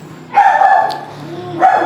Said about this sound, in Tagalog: Tumatahol yung aso ko dito and sana makinig nyo.